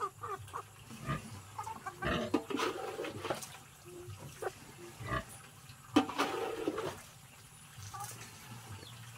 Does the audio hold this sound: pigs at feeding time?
yes